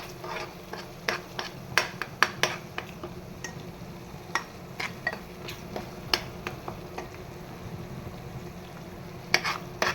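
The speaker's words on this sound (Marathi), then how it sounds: "छान असं आपलं हे केळं या प्रसादाच्या शिऱ्यामध्ये परतवून घ्यायचं तुपामध्येच छानपैकी" Banana pieces being sautéed in ghee for a sheera prasad, gentle frying sizzle under a string of quick metallic spatula taps and scrapes against the pan, close and fairly soft.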